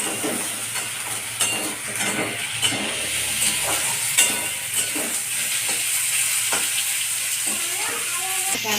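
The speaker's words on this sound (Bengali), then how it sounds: "পেঁয়াজ আর আলু একসঙ্গে ভাজবো।" Onion and potato fry together in a pan with a steady close sizzle, broken by occasional stirring scrapes, while low speech runs faintly underneath.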